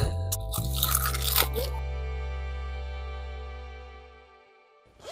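Crunchy fried chicken being bitten and chewed at a campsite, a few crisp crunches in the first second and a half, then a low steady hum lingering to the end.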